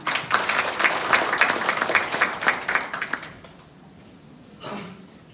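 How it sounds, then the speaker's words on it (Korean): Audience applause at a residents' briefing on a neighborhood redevelopment project, a burst of clapping for about three seconds that fades out, followed by a quieter stretch and a faint short noise. "뜨거운 박수 한번 부탁드리겠습니다."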